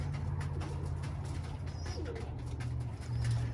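Birmingham Roller pigeons coo softly in a loft, low murmuring calls repeating steadily over a constant hum, with a brief closer coo near the end.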